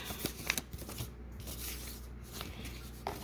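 Paper envelope being handled up close: soft crinkles, rustles and slides of paper in short, quiet bursts, with no talking.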